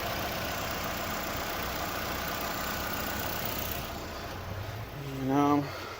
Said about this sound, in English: It's just standard engine noise there.